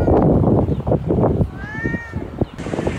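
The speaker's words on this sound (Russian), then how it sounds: "Этот кот на столбе сидит 5-й день подряд." A cat stuck up on a pole meows loudly and repeatedly, plaintive cries rising and falling close by, with street noise and rumble in the background.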